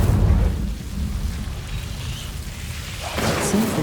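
An Incendio fire spell cast in the video game Hogwarts Legacy: a loud, steady roaring rush of flame with low rumble that holds for several seconds, then brightens into a sharper crackling burst near the end.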